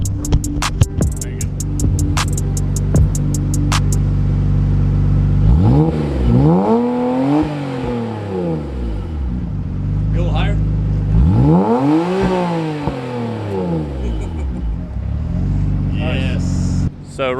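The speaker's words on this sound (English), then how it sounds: "We're gonna do some quick revs to get a kind of a first glimpse at it." Nissan GT-R fitted with an equal length front pipe, revved twice from idle, each rev climbing sharply then falling back, loud and close with a raspy exhaust tone and a rumbling idle between revs.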